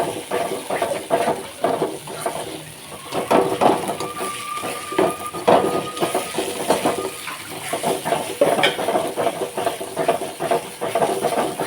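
Mutton poured from a pot into a pan for a dhaba-style gravy mutton fry, then stirred while it fries; steady watery sizzle and hiss with rattling stirring scrapes throughout, close and fairly loud, no talking.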